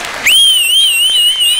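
Whistling from an audience at a live comedy show, a single loud sustained shrill whistle that wavers slightly in pitch after a brief burst of crowd noise.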